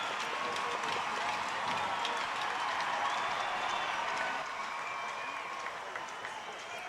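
Hockey crowd in an OHL arena roaring steadily during an on-ice fight, a dense, sustained wash of cheering and clapping that holds loud before easing slightly toward the end.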